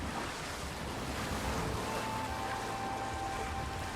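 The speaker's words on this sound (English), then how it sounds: "Well, we're riding some waves. I'll drown if I go out much further on this rickety boat." A rickety boat rides ocean waves in the Assassin's Creed Shadows video game, with a steady wash of surf and wind noise at moderate level and no talking.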